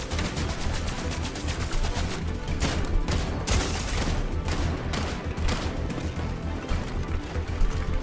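Rapid, dense gunfire from the Fortnite video game rattles in continuous bursts with sharp cracks and booms, loud and close throughout with no talking.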